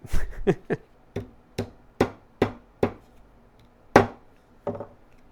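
A hammer strikes the end of a wooden chair stick about nine times, close and sharp, with uneven gaps between blows and a longer pause near the end.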